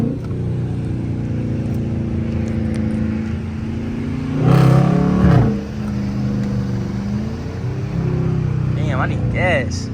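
A Dodge Charger R/T in rush-hour traffic throbs with a steady low engine drone that swells into a hard first-gear surge midway, then settles back to a rumbling cruise; someone talks over it near the end.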